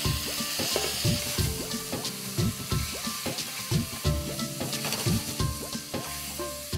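Tomatoes sautéing in a pan, with a steady sizzle broken by rhythmic scraping and stirring strokes of a spoon, close and moderately loud, repeating roughly every half second.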